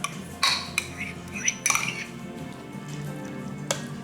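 Metal spoon scraping and clinking against the inner pot of an Instant Pot while spreading cream of mushroom soup over a pot roast, a few distinct close taps and scrapes with soft stirring noises between them.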